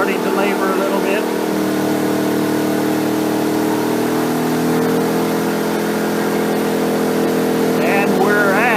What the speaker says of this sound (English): you can tell that the engine is starting to labor a little bit